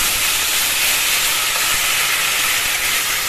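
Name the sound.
taro leaves added to hot tempering in a pan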